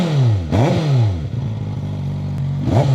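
A Yamaha 750SR-S motorcycle with an aftermarket exhaust revs up and down in several close, loud throttle blips, the engine note rising and falling sharply with no talk over it.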